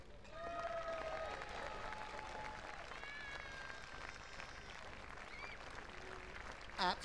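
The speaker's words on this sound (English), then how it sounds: "I want to hear a really, really big applause" A crowd applauds at an outdoor agricultural show after a parachute display, a faint, steady, distant clapping sustained throughout, with scattered cheers and voices mixed in.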